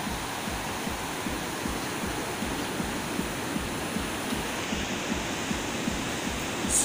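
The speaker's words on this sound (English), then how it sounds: "Oh my god, strong waves." Strong ocean waves give a continuous, broad roar of surf at moderate distance, steady throughout with no distinct breaks and no talking.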